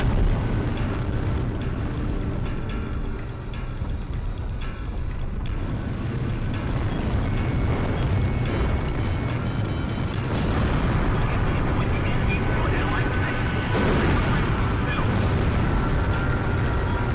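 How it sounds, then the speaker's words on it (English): Bombs dropped during a bombing run in the Ace Combat Zero video game, heard as a dense, continuous rumble of explosions with occasional sharper booms over a steady roar. "They're just tossing bombs all over the place."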